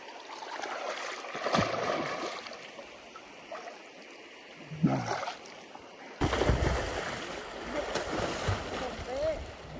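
Flowing water of a rural stream, a steady rushing wash with splashy bursts, close and fairly loud, heard under scattered talk.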